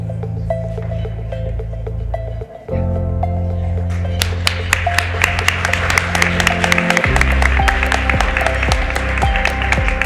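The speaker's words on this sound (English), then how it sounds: "join me in a round of applause for Ruby" Steady applause from an awards-ceremony crowd fills the clip, with sharp individual claps standing out over sustained tonal music, growing denser toward the end.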